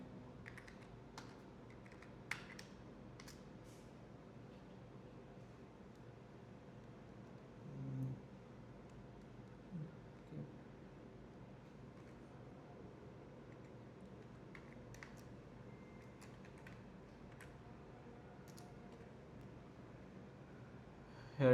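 Someone types a search into a search bar on a laptop computer keyboard, with quiet, sparse key taps and a few slightly louder clicks scattered over a soft, steady background hum.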